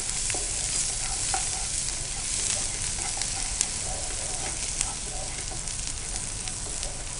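Ginger, onion and garlic fry steadily in an oil-filled pan, a dense continuous sizzle with occasional stirring scrapes and small pops throughout, close and fairly loud.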